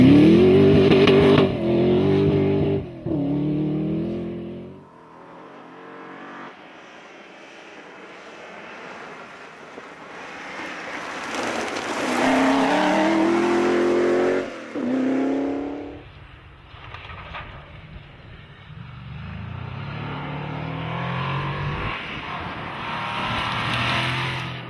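Rally cars race over very rough terrain at a British cross country championship meeting at Epynt, engines roaring and revving through gear changes as they pass, rising and fading over a long stretch.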